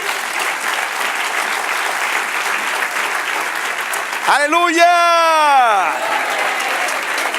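A church congregation breaks into steady applause for the Lord after the sermon, a dense crowd clapping with a voice calling out over it.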